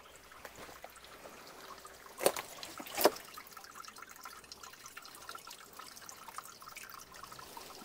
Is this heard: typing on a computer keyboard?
no